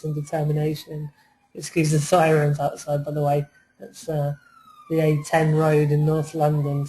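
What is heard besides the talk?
sirens passing outside on a London road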